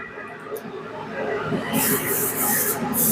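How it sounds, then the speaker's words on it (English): A steady airy hiss of an airbrush spraying in bursts over a low background hum, growing louder toward the end. "as I'm spraying this, it's actually sucking the spray fumes in"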